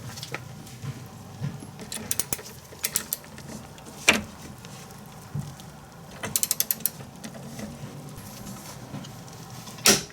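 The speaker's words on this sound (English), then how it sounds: "you're going to want to torque that to 160 foot-pounds per the instructions" A torque wrench and 1 1/4 inch socket tightening a DeLorean hub nut to 160 foot-pounds, producing sparse ratcheting clicks and a few sharp metallic snaps in a quiet garage.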